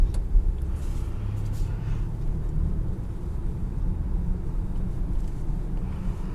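Low, steady engine and road rumble from inside a 2022 Infiniti QX60 with a 3.5-liter naturally aspirated V6 and 9-speed transmission, driving at an even pace with no voices.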